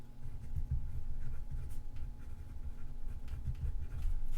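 A pen scratches across paper while notes are jotted down, a continuous close soft scribbling with small strokes and pauses, over a quiet room hum and no voices.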